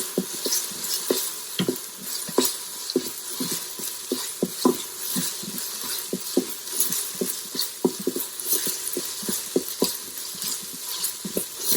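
Cinnamon stick and spices sizzle in an Instant Pot while making chicken nihari, with a steady frying hiss and irregular clicks and taps of stirring running throughout, close and moderately loud.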